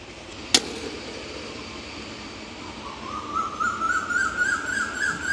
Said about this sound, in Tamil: அடுப்பு மூட்டுக்க குயில் கூவுது.